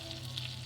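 Butter frying a flour tortilla shell in a pan on the stove, a soft continuous sizzle with faint crackle, quiet and steady throughout the short moment.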